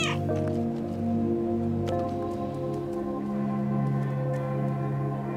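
A cat in the video game Stray gives a soft meow at the start over a steady, dense bed of game ambience and music that keeps going underneath.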